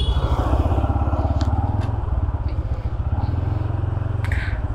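A motorcycle engine idles close by with a steady, loud puttering rhythm as the bike is parked, with a few faint clicks in the background.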